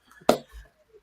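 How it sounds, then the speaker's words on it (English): A single sharp hand clap in a quiet room, close and crisp, standing alone with a faint low thump just after. "I'm going to just clap and say this is a clap for Tampa Bay."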